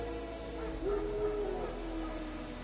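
Wild dogs in The Witcher 2, a faint distant yelping whine heard once over a steady ambient game background.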